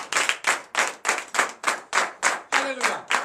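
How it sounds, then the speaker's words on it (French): A church congregation claps together in acclamation at a night deliverance prayer service in Comè, Benin, with about ten loud, rhythmic group claps in a steady beat and a voice rising briefly near the end. "Frères et sœurs, Christ, donnez de vive acclamation à l'Éternel."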